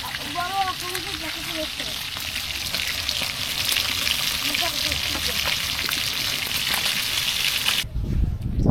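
Dried fish fries in a pan at a dry fish market in Kuakata, Bangladesh, giving a constant loud crackling sizzle with faint voices talking in the background.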